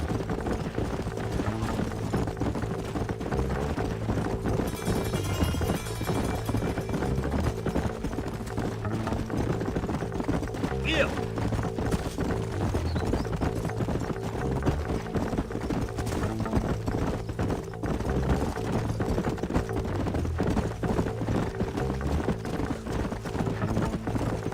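Horses in Red Dead Redemption clip-clop steadily over ground, a continuous rhythmic hoofbeat with a low droning score underneath throughout.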